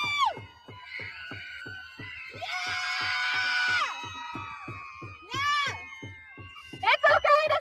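People scream and shout in a loud crowd, with a long sustained burst of many voices in the middle and sharp high yells near the end, over a steady thumping beat.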